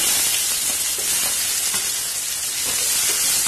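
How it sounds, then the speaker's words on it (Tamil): Steady, close sizzling of onions, tomatoes, curry leaves and a dried red chili sautéing in oil over low flame, a continuous bright hiss with faint crackles and no talking. "லோ ஃபிளேம்லயே வச்சுட்டு இதை வதக்கி விடுங்க"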